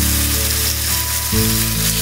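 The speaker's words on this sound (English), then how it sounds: "Just put a little sear on it." Lamb meat searing in a hot pan for a slow-cooked stew, a loud, dense, close sizzle that holds steady throughout and swells briefly as the meat settles, with no talking.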